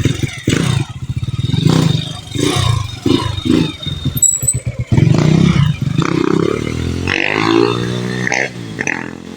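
A Honda Wave 100 motorcycle with a 54mm bore and a 28mm carburetor runs on a test, choppy and uneven at first, then revs up in rising surges with some metallic clatter. It sounds loud and close.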